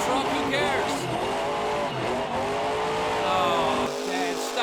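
Son-uva Digger monster truck at a stadium show, its engine revving hard in a loud sustained roar with wavering pitch and tires skidding, under crowd noise and talk.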